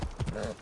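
A horse's hooves clop in a quick, soft rhythm across desert ground in Assassin's Creed Origins, a few close steps under a voice.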